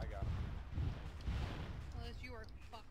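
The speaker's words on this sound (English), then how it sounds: "We got hit by mortars directly to our right." Mortar shells burst in a war video game, dull booming thumps rolling in over the first second and a half before a voice starts talking.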